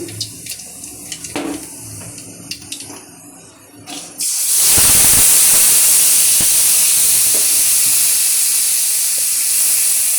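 Nigella seeds are dropped into hot oil in a kadai. After a few quiet seconds of faint clinks, a loud, steady hiss of sizzling oil bursts in and continues without pause.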